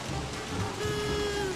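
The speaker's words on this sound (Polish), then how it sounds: "Ale pada tak tragicznie, że masakra." Heavy rain falls in the video game Don't Starve Together, a steady dense downpour hiss with no talk over it.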